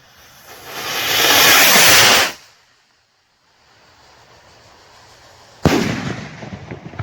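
Vivid Pyrotechnics Reapers 'Barcode' aerial firework shell: a long loud rushing hiss fades out, then after a quiet gap a sharp loud burst cracks and crackles on.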